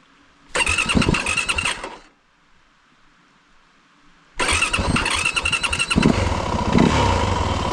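A motorcycle engine cranks and catches in two attempts: a short loud burst that dies out, then a pause and a second start that settles into a steady close running idle.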